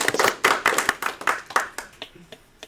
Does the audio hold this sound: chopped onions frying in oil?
no